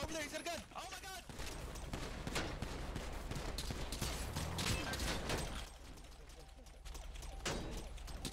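Rapid bursts of gunfire from the video game GTA crackle through a chaotic scene, sharp shots scattered across the clip while players shout over them.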